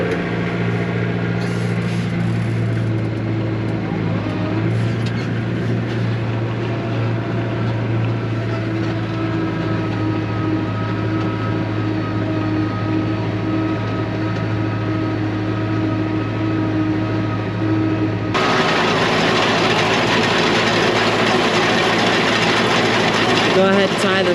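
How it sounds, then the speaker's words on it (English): Farm tractor engine held at about 1600 RPM in low range for round baling hay, a steady loud drone running throughout, with a brighter, louder mechanical wash joining near the end. "We'll rev it up to about 1600 RPM or so."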